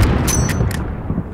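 Enemy gunfire in the Modern Warfare remake video game, heard as several quick, sharp shots in close succession over a rumbling battlefield background.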